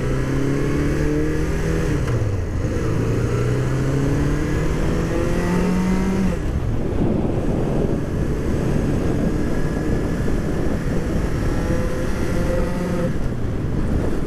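A 1981 Honda CB650 cafe racer motorcycle is ridden hard, its engine revving up and climbing in pitch through several gear changes. Steady wind rush runs under the loud exhaust note throughout.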